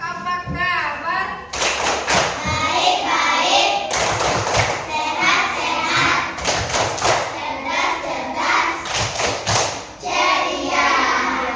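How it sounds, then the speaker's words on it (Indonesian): Classroom of children performing the 'tepuk apa kabar' clapping chant, rhythmic hand claps and thuds in quick patterned bursts mixed with their chanting voices and a teacher's speech. "sekarang kita tepuk apa kabar dulu ya"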